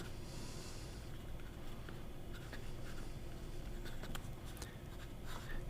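A Pelikan M800 broad-nib fountain pen scratching across paper, a soft continuous scraping with a few brighter ticks of nib strokes, close and quiet.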